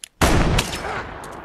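A single loud gunshot from a Western film scene, where a gun is shot out of someone's hand, bursts in sharply after a brief faint click and leaves a ringing, slowly fading tail.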